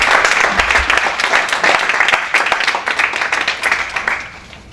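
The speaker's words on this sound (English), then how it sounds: "Big round of applause for our panelists today." Audience applause for panelists at the end of an entrepreneurship panel discussion, steady hearty clapping from a roomful of people that gradually tapers off near the end.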